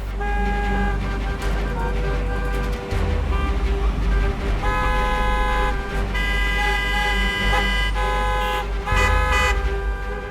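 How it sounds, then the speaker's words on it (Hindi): City traffic jam in India: car horns honk over and over, some long steady blasts and some short toots, loud over a constant engine and road rumble, with voices underneath. "घर से निकलने के बाद ऐसे ट्रैफिक में फंसना तय है"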